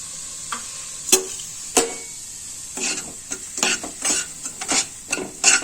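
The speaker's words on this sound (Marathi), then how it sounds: "आणि ह्या तुपामध्ये मी आता हा रवा घालते आणि रवा आता भाजून घेते" Semolina (rava) roasting in ghee over low heat for karanji filling, with a steady soft sizzle and repeated scraping strokes of a spoon against the pan, close and fairly clear.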